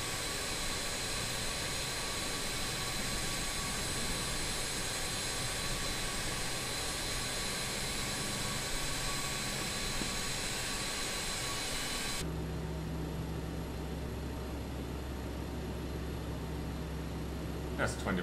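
Number 1 engine of a BAe 146 jet in Microsoft Flight Simulator spools up as a constant, even turbine roar and whine. Partway through, the tone shifts to a quieter, steadier hum with distinct low drones.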